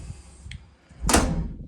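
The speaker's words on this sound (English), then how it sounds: "and now the door's closing every time." An interior door swings shut under a refitted door closer. A faint creak is followed by a solid, fairly loud thud that latches and fades in a quiet room.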